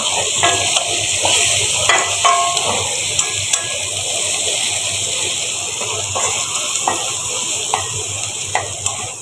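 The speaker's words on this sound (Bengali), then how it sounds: "মশলাটা একটু কষা নেব" A cumin and garlic paste spice mix fries loudly in hot oil, a constant close sizzle and hiss broken by short scraping strokes of a spoon against the pan.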